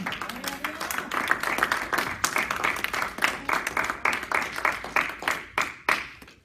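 A church congregation applauds, a mix of dense and distinct handclaps that swell and settle, with a voice speaking over part of it.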